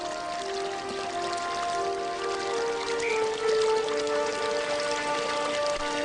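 Water flows steadily through gravity-fed irrigation channels in a garden, a continuous close trickling and pouring with a bright splashing texture. Faint tonal music runs underneath and no voices are heard.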